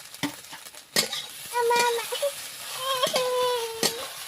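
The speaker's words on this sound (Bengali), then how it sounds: "ধনিয়া পাতা দিয়ে টুকু নাড়াচাড়া আমি করে নিচ্ছি" A utensil scrapes and clatters in a frying pan of fish with coriander leaves several times in irregular strokes, with a soft sizzle and brief faint squeaks between.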